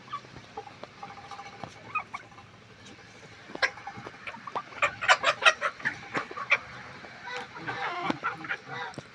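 Chickens and young chicks cluck and peep continuously at close range in a poultry flock, with sharp overlapping calls that swell and grow busier midway, over a steady background hum.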